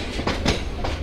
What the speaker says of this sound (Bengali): ধীরে ধীরে ট্রেন এগিয়ে চলছে সামনের দিকে।